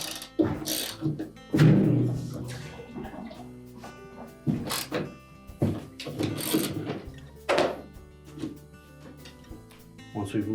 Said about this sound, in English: using a 1/2-inch socket, we'll loosen that bolt